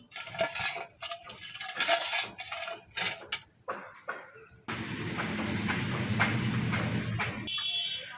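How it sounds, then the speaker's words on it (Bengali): A spoon scrapes and clinks against a pot of milk and sugar in a quick irregular series, then a steady simmering hiss takes over to the end. "এভাবে অনবরত নাড়াচাড়া করতে হবে, তলে যেন চিনিটা লেগে না যায়।"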